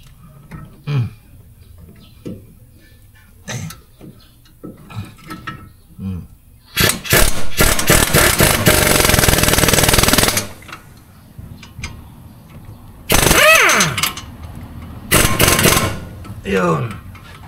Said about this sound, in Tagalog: Dapat malakas ang ano nyo, ang inyong impact hammer.